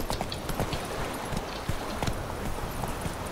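Horse hooves gallop in The Witcher video game, a loud, steady, fast clip-clop rhythm of the mount sprinting across the whole stretch, with no voices.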